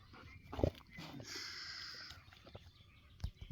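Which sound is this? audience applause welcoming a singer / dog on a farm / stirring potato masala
dog on a farm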